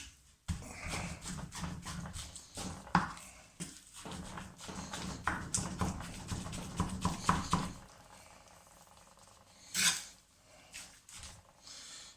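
Repeated dull chopping and scraping thuds of a knife cutting through poultry meat on a board, close and irregular, then a brief sharp rasp.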